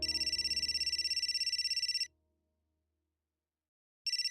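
A telephone ringing in a home, a fast electronic trill in two-second bursts separated by silence, clear and close with no talk over it.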